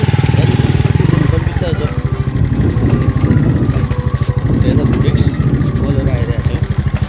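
A motorcycle carrying two riders moves along a slippery road, its engine a loud, close, throbbing rumble that rises and falls steadily, with talk over it.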